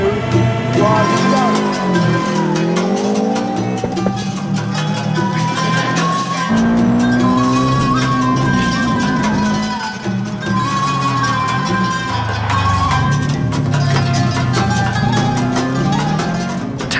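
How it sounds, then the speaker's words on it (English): A 340 bhp Subaru rally car racing on a track, its loud engine revving hard, pitch climbing and dropping repeatedly through gear changes across the whole stretch. "the race will be run in a 340 brake horsepower Subaru rally car"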